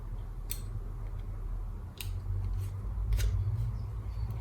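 Small scissors snip jump stitches on faux leather vinyl embroidery, several quick, crisp cuts spaced about a second apart, close and quiet against low background hum.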